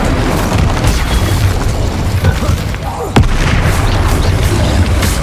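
A fire spell blasts in Hogwarts Legacy combat, heard as a loud booming burst over dense, continuous game-battle noise with a sharp impact partway through.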